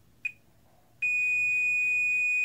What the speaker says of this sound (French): ça va buzzer